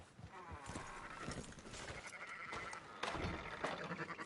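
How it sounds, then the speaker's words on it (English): Sheep bleat repeatedly amid a busy farmyard, with several overlapping calls at close range and steady background noise throughout. "Fine sheep"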